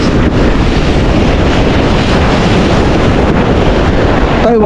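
Strong waves on a windy beach roar in a constant, loud wash of surf, with heavy wind buffeting the microphone throughout.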